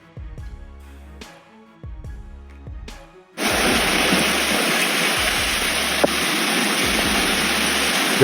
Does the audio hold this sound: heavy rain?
yes